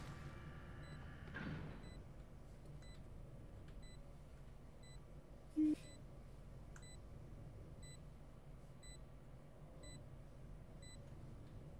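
The planted spike in Valorant beeps steadily, faint evenly spaced high chirps repeating in a regular rhythm under quiet game ambience, with a louder blip midway.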